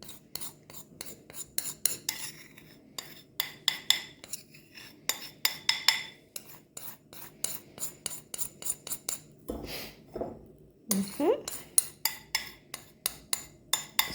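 A metal whisk clinks and scrapes rhythmically against a mixing bowl while someone stirs a pastry mixture in a home kitchen, in bright repeated taps with a few heavier knocks near the end and no talk.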